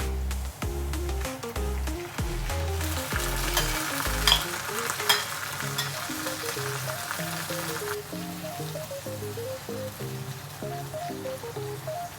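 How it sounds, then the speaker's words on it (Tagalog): Garlic and onion sauté in a pan, a hissing sizzle with crackling bursts that swells in the middle and then eases, running under a melodic background music track. "naggisa na nga tayo. Nilagay ko yung bawang at sibuyas"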